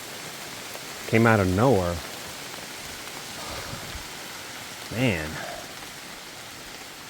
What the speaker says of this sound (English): Oh, little pea size, maybe a little smaller than pea size hail.